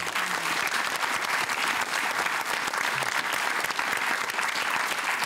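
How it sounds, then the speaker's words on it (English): A studio audience at a televised Q&A panel on consent applauds, a dense continuous roar of many hands clapping that stays loud and even throughout, with no speech over it. "save your biggest round of applause for Saxon Mullins and the wonderful people in the audience"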